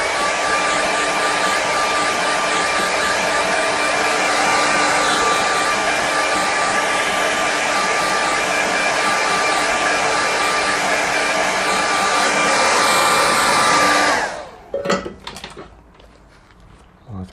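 A hair dryer blows steadily and loudly over a watercolour landscape painting for about fourteen seconds, then cuts off, leaving a few soft clicks and handling noises.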